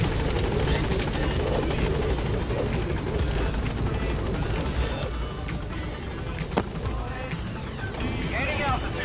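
The Pequod helicopter lifts off in the video game Metal Gear Solid V, its rotor roar loud and constant throughout, while a radio voice speaks over it.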